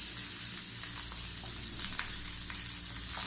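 Beef, onion and capsicum fry in a pan over low heat, giving a steady, close sizzle with soft crackles throughout and no voices.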